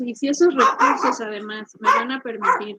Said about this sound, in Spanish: ay, perdón, ese es mi perro.